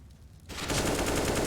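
Sustained spray of automatic gunfire in CS:GO on the Mirage map during an esports match, a sudden dense rattle of rapid rounds that kicks in and holds loud and steady.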